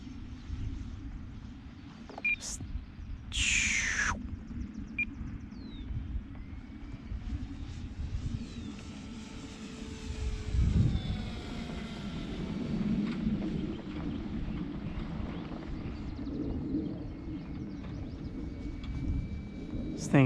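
A remote control airplane flies at dusk, its motor whining and sweeping in pitch as it passes near and far, with birds calling now and then and a brief louder burst midway.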